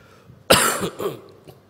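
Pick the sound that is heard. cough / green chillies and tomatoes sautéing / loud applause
cough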